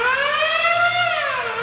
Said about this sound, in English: A lunk alarm is basically an alarm someone can press if they feel anyone is drawing unnecessary attention to themselves.